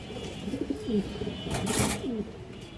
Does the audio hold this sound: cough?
no